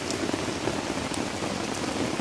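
Heavy rain pours down steadily on an outdoor fishing trip, a dense, constant hiss of drops beating on surfaces close by, with runoff water flowing, and no voices over it.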